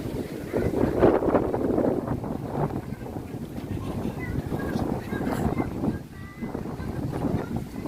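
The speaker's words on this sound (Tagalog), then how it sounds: "Mahangin na lang talaga sa tabing dagat." Steady, blustery wind buffets the microphone at the seashore in Dingalan, Aurora Province, Philippines, a constant rumbling roar with faint voices talking underneath.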